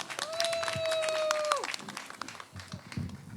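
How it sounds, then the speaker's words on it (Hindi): A small gathering at a community birthday celebration claps sparsely and quietly after a voice speaks. Scattered hand claps follow, fairly distant and thin. "बहुत सारी ताली"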